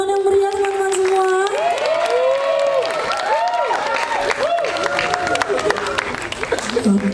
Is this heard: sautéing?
no